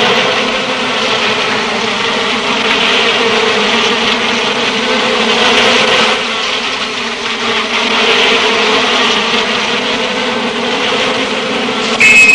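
Bees buzz in a dense, steady drone at a hive raided by a honey badger, loud and continuous throughout.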